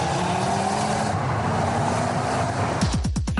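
A Ford Focus RS sports car driving hard, a loud sustained engine roar heard from close by, then rapid rising revs as it accelerates through gears near the end.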